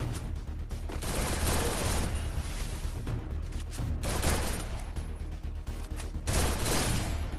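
Dense automatic gunfire from the video game Free Fire, loud and continuous bursts of shots with rapid crackling volleys running throughout, no talking over it.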